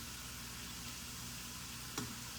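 Food frying in very hot oil, a steady close hiss of sizzling broken by one sharp clink near the end.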